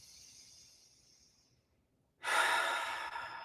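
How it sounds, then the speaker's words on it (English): Forceful rapid breathing from a yoga bellows breath practice during a mindful movement session, a strong continuous rush of air after a brief quiet pause, preceded by softer breathing. "then we'll begin our bellows breath practice"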